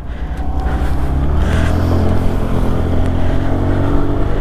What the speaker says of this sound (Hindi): तो चलिए स्कूटर को राइड करते हैं और देखते हैं कि भैया कैसे फील होती है ये स्कूटर।